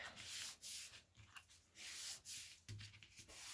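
Adhesive tape being pressed and rubbed firmly onto paper while building a mini album hinge, a close, dry rasping scrub repeated in several short strokes with brief pauses between them.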